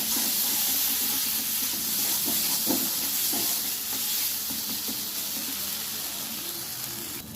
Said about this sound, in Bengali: মশলাটা আমি ভালোভাবে ভেজে নেব